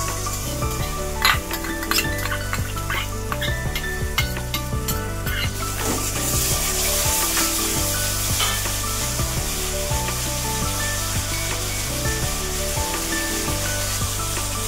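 Curry with beaten curd fries in a pan, a loud, continuous close sizzle broken by the scrape and clink of stirring against the pan, with no talking.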